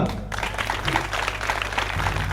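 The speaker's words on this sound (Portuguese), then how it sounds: "Aplauso para você." Applause from an audience at a community arts event in a neighborhood, a steady spread of clapping over a low background hum, moderately loud and continuous.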